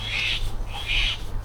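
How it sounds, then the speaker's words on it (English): Birds call twice outdoors near a car being worked on, two loud, shrill, drawn-out calls about half a second apart over a steady low hum, with no talk. "birds again. Just going to get rid of these birds."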